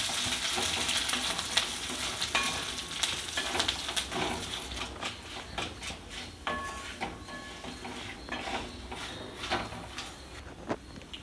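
Cashews, dried red chillies and curry leaves roasting in a hot pan for coconut rice, a constant crackling sizzle with intermittent stirring scrapes and light knocks, close up.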